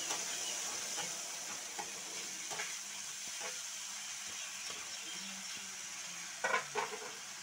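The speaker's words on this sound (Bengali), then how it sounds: "তো আর একটু আমি এর মধ্যে জল দিয়ে নেব" Water splashed into a spice paste frying in oil for a fish curry, giving a steady hissing sizzle with scattered stirring clinks and a brief louder burst near the end, no one speaking.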